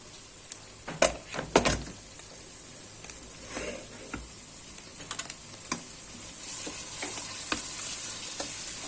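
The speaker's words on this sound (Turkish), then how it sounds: "Şimdi iki adet havucumuz var. Bunu da kavuralım." Carrots sauté in a pot with onion and garlic for spinach soup, a soft continuous sizzle broken by sharp utensil clicks and stirring scrapes near the start and scattered taps later.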